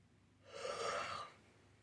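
A soft, breathy yawn, one long exhale that swells and fades over about a second, close and quiet against a faint background hum.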